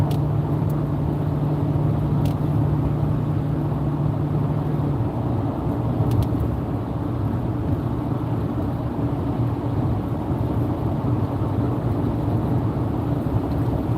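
A car driving on the road makes a steady low rumble of engine and tyres from inside the cabin, unbroken for the whole stretch, with no talking.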